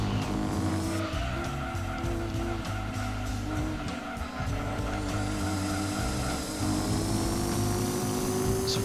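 In the Gran Turismo 2 racing game, a car snaps into oversteer out of a corner, its engine revving hard under a continuous tire squeal and skid, loud and close throughout.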